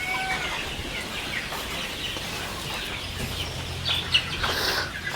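Small chickens cluck softly among scattered bird chirps in an outdoor setting in Batticaloa, a faint, steady farmyard murmur running alone without talk.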